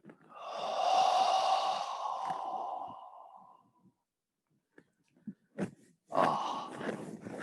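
A long, loud breath out during a qigong exercise comes as a sustained airy sigh close to the mic, then a pause and short sniffs, followed by another strong breath.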